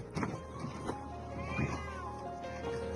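A frightened cat trapped by floodwater, meowing repeatedly in plaintive rising and falling cries, fairly close, over a constant background rumble with faint voices.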